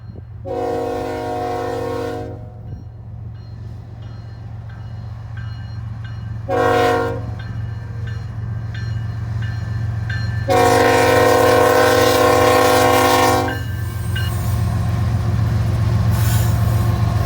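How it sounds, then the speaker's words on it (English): A northbound freight train of flat cars is pulled slowly by a single ES44C4 locomotive, which sounds three loud horn blasts: one long, one short and one long. A steady engine rumble and rolling rail noise continue throughout. "there was a northbound train consisting entirely of flat cars being pulled slowly by a single ES44C4"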